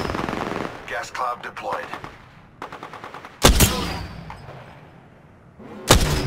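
Automatic weapon bursts in Apex Legends, rapid gunfire at the start, then sharp loud volleys around the middle and end, with a character voice speaking between shots.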